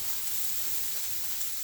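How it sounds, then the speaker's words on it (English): Broccoli, tofu, onions and peppers stir-frying in a pan with no added liquid, a soft steady sizzle and hiss that runs evenly throughout, fairly quiet and with no talking. "I'm just stir frying everything."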